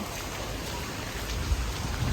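Heavy typhoon rain pouring down in a dense, unbroken roar, close and loud, with a steady hiss of drops on surfaces.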